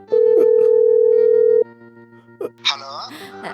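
Phone call ringing tone: one long steady electronic tone plays for about a second and a half near the start, then stops, and voices talk in the rest.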